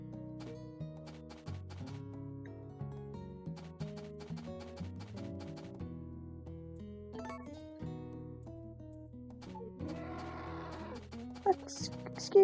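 Cows in Harvest Moon: A Wonderful Life moo impatiently, repeated game moos layered over a plinking musical score, with a rustle of feeding near the end.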